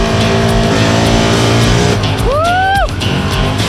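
A Can-Am side-by-side off-road vehicle takes a chicane on a driving-school trail course. Its engine roars loudly and continuously up close, and a sharp tire squeal sweeps through as it turns.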